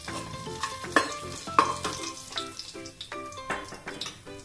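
Cashews frying in a pan as garam masala goes in for coconut rice, a close sizzle broken by a series of sharp metallic clinks and scrapes from a spoon.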